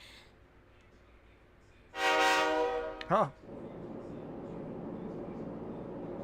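A train horn blares loudly for about a second in the video game Persona 3 Portable, followed by a short warbling tone, then a steady low rumble of the passing train; a brief voice is heard.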